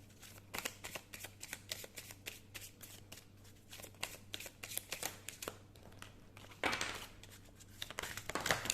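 Tarot cards being shuffled and drawn for a reading, a run of quiet, quick papery riffles and flicks with a denser burst of crinkling shuffling near the end, close and alone.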